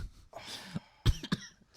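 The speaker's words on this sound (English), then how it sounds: "Made myself cough." Two or three short, sharp coughs close up, preceded by a breathy throat sound, fairly quiet overall.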